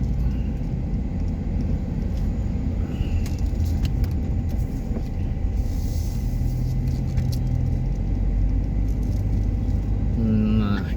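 A car drives through Banda Aceh and turns left. Constant low road and tire rumble is heard from inside the cabin, with brief faint clicks and rattles and no voices.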